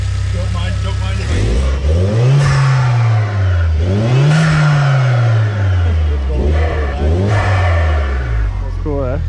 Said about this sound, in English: we just figured we'd show you a turbo car that we were working on. No wastegate